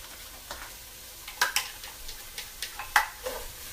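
Onions dropped into a hot pot for a vegan black bean and sweet potato chili, a faint sizzle with a cluster of light clinks and scraping taps, quiet overall.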